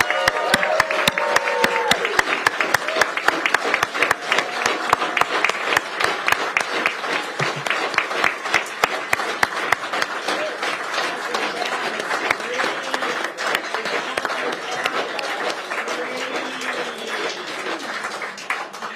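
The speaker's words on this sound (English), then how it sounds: "Let's give them a round of applause." An audience at a Pierce council meeting applauding, a dense, crackling wash of many hands clapping that stays strong for most of the stretch and thins slightly toward the end.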